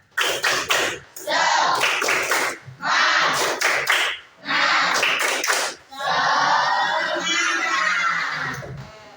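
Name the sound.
class clapping along to a 'tepuk semangat' chant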